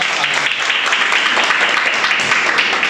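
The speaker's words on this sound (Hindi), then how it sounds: "जोरदार तालियों से" Loud, dense applause from an audience at a Telugu community education society event at a high school in Bhiwandi, a steady wash of many hands clapping throughout without pause.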